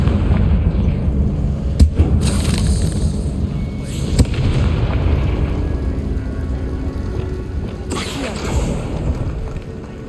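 Confringo spell explosions in the Hogwarts Legacy video game go off as sharp, loud bursts, roughly three spaced blasts over a rumbling game soundscape, with a faint voice in places.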